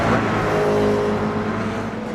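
A race car in the iRacing video game at Motegi, its engine a loud, steady buzzing whine held close and continuous as it runs across the finish line, with no talking.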